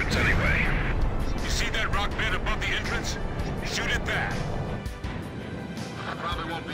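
Gunfire and explosions in the Ace Combat video game: loud crashing blasts and rapid shots fill the whole stretch, with a voice talking over the din.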